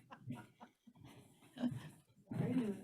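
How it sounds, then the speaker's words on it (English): A pet dog crunches dry kibble indoors during an online meeting: irregular close, crisp chewing bursts with brief pauses, growing louder toward the end. "I'm going to take my dog's food away from her because she's crunching in the background"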